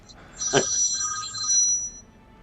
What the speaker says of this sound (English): Phone call just went off.